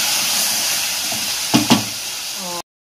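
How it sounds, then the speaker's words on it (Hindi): Minced meat (keema) with crushed ginger and garlic frying in a pan, a steady close sizzle and hiss with a couple of stirring knocks before the sound cuts off. "कीमा जो है वो अच्छे से फ्राई हो रहा है"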